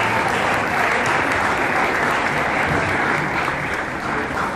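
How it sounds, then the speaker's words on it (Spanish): Loud, sustained applause fills a press conference presentation for a family and values social campaign, a dense wash of many hands clapping without pause. "Un fuerte aplauso."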